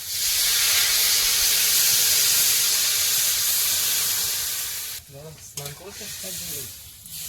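Water is poured into a hot pan of fried fish curry, setting off a loud, sustained sizzling hiss that fades after several seconds, followed by brief speech.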